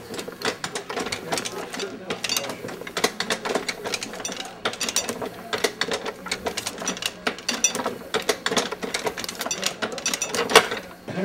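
A platen printing press runs steadily in a linecasting shop, giving a rhythmic mechanical clatter of repeated clacks and thumps at a moderate distance.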